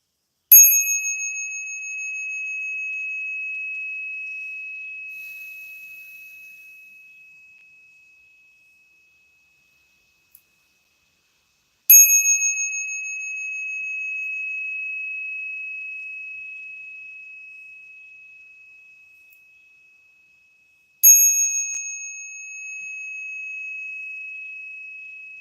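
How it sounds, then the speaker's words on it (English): A bell rings three times, widely spaced. Each strike is a bright, clear tone that rings out alone and decays slowly over several seconds. "start hearing the sound of the bell"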